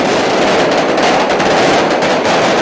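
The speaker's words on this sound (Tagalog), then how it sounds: "dito, tumagundong ang daang libong maliliit at malalaking firecrackers" Hundreds of thousands of small and large firecrackers bursting at once in Dagupan, making a dense, continuous, loud crackling roar with no gaps and no audible talk.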